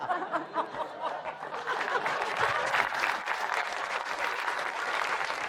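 Studio audience applause swells into dense, sustained clapping, rising after a softer start, with scattered chuckles and laughter mixed in.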